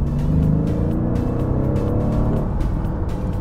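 Mercedes-AMG GT with a 4-litre twin-turbo V8 under hard acceleration, a deep, loud rumbling engine note rising in pitch steadily and close by, with no talk over it.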